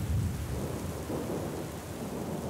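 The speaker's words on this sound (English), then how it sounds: "The storm went on for days." Thunderstorm with heavy rain: low, rolling thunder rumbles under a continuous, dense wash of rain on surfaces, with no voices.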